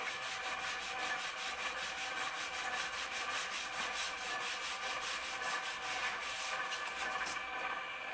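320-grit sandpaper rubs steadily against the outside edge of a Hsu HRSW10 subwoofer's new foam surround to remove a fuzzy burr. The part turns on a motorized Palmgren 10-inch rotary table, giving a faint, even, continuous scraping with a slight rhythmic pulse and no talk.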